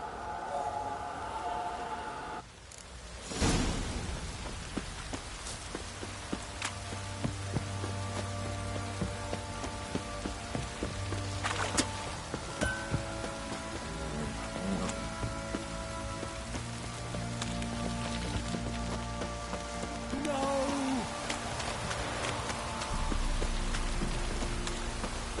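Steady rain in the video game Witcher 3, a dense continuous patter of drops on surfaces lasting the whole stretch, with a few scattered sharper game sounds over it and no talk.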